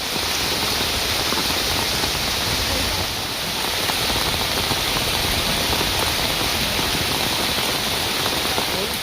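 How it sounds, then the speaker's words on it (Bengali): Steady rain falls outdoors near a fishing spot, a constant dense hiss of drops on surfaces that holds at an even level throughout, with no talking. "এই বৃষ্টির মধ্যে এত সুন্দর লাগছে পরিবেশটা"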